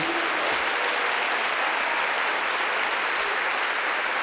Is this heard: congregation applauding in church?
yes